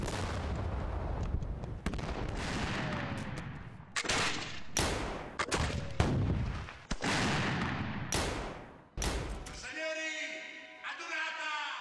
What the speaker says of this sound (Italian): viene accolta dai colpi di tre cannoni che sparano a mitraglia dal saliente delle mura vaticane